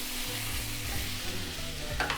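A spoon stirs taro root gravy in a pan. The close, steady scraping and sizzling texture runs continuously with no voices.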